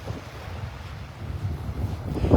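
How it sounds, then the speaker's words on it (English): A northeast breeze blows across a beach in North Naples, Florida, buffeting the microphone in a steady low rush that grows stronger and gustier toward the end, with faint surf underneath. "Nice little breeze coming out of the northeast."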